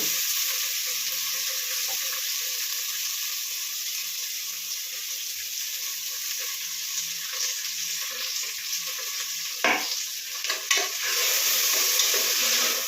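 Frying in a pan for a sprouted-gram vegetable masala sambar while being stirred, a steady hiss with faint scraping and a few louder clanks near the end, no talking.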